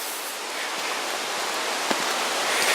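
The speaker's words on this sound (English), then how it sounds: "you can hear the falls" Steady broadband rush of falling water from a waterfall along a Smoky Mountains trail, constant and moderately distant, with no voices.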